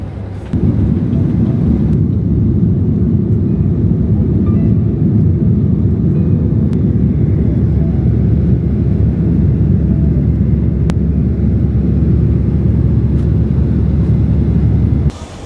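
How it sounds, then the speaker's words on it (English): A passenger airliner touches down and rolls out at Chicago O'Hare, heard from inside the cabin as a loud, steady low roar and rumble lasting throughout, with no talking. "so we just landed in Chicago right now, O'Hare"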